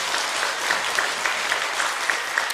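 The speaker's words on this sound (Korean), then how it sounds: "목사님을 위해서 한번 격려의 박수 부탁드립니다" A church congregation applauding for the pastor during Sunday worship, an even, sustained patter of many hands clapping at moderate volume with no voices over it.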